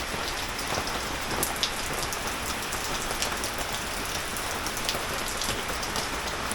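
Steady rain pattering on a hard surface, a dense even hiss with scattered sharper drops, continuous throughout with no voices.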